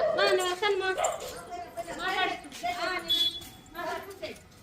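A dog barks and yips several times close by, mixed with people talking.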